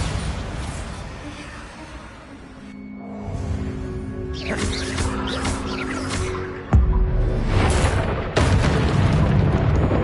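The Bombarda explosion spell in Hogwarts Legacy goes off with booming blasts and a sharp impact burst, layered over rumbling game effects and background clatter.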